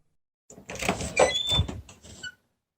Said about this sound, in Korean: 김선비는 그 소리를 듣고 문을 열고 나왔지요